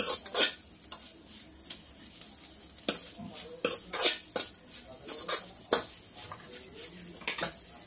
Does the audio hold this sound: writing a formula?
no